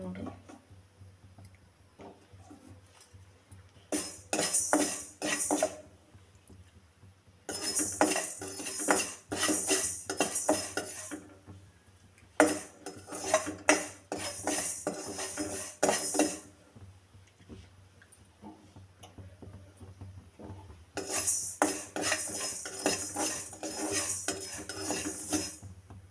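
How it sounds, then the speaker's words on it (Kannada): Fenugreek seeds dry-roasting in a pan on a stove, stirred with a utensil that clatters and scrapes against the metal in repeated bursts, with quieter stretches between and a low steady hum underneath. "ಇವಾಗ ನಾನು ಸ್ಟವ್ ಹಚ್ಚಿ ಮೆಂತ್ಯ ಕಾಳನ್ನು ಹೊಡಿತೀನಿ ನೋಡ್ರಿ"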